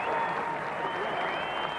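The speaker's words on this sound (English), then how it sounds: "The Old Trafford crowd will give him a huge reception." Cricket crowd applauding at Old Trafford during the 1992 England v Pakistan Test, a broad, steady wash of clapping heard from a distance.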